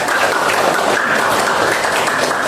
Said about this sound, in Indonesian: Beri tepuk tangan kepada Lansia.